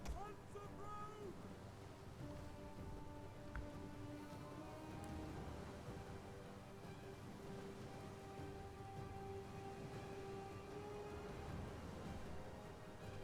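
Steady rain falls across a Total War: Attila battlefield, a constant soft hiss of downpour holding even throughout, with faint tonal game sounds and distant battle noise layered beneath.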